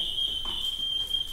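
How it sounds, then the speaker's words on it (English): Smoke detector shrilling nonstop inside a house being assessed for plumbing and electrical repairs, a piercing continuous high tone that carries on steadily without a break. "The smoke detector that's going crazy there, so I apologize for that."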